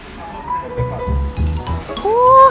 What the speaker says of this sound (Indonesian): Dada angsanya digoreng dulu.